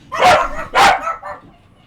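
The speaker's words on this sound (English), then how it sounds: "Sorry for the dogs." Two loud dog barks close together, then a softer trailing yelp, close by with no talking.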